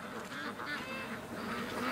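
A group of ducks coming back into a yard at a duck-raising home, faint quacking and honking chatter at some distance over steady outdoor background noise.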